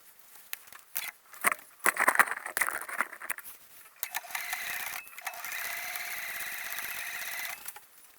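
A home sewing machine stitching a seam on a button-front shirt dress, with a steady whirring run in the second half after some handling clicks and rustling of fabric, close and moderately quiet.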